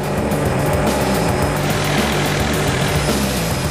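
A helicopter hovers right beside a power line, its loud, steady rotor thrum and engine whine filling the air close by, with no voices.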